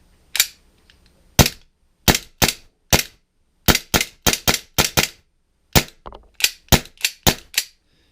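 Tokyo Marui G18C airsoft pistol firing sharp, loud, close shots, single spaced pops on semi-auto, then quicker irregular bursts on full auto, with no talking.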